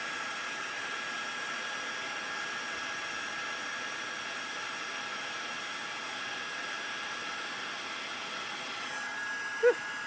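A craft embossing heat gun blows hot air with a soft, steady whooshing hiss, faint and continuous throughout, with a small bump near the end.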